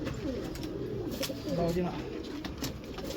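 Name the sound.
pigeons cooing in a loft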